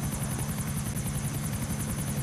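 Rhythmic rotor chop of a helicopter in Grand Theft Auto pulses steadily and close, a fast repeating thump with a whining engine tone above it.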